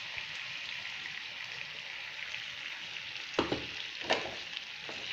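Tomato and chili paste sizzling steadily in a pan for a momo chutney, a constant soft frying hiss with a few brief scraping stirs near the end, no one speaking.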